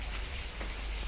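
Steady rain falls outdoors as a dense, even hiss of drops on surfaces, continuous and moderately close with no voices over it.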